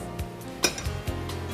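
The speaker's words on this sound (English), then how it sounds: "We keep a frying pan." A frying pan is set down on a kitchen stove with a single sharp metallic clank, surrounded by a few softer knocks and clinks, quiet and close with no talk.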